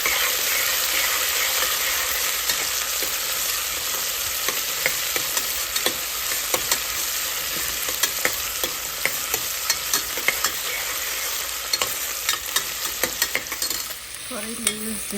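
Peanuts fry in a pan for vegetable khichdi under a dense, steady sizzle, with frequent scraping stirs of a spoon throughout and a brief clatter near the end.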